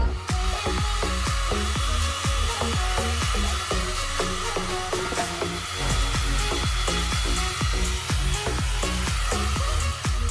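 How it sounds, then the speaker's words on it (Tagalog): A hair dryer roars steadily and close up while hair is blow-dried during a DIY Brazilian keratin blowout, with repeated brushing or combing strokes ticking through the continuous whoosh. "Tapusin natin yung hair dry."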